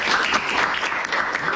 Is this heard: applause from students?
yes